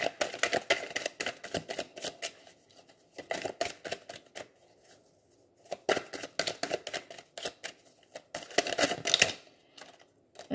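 Tarot cards drawn and handled from a deck, crisp close snaps and shuffling clicks in bursts separated by short quiet gaps.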